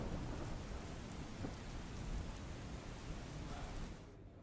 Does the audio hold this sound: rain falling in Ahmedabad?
yes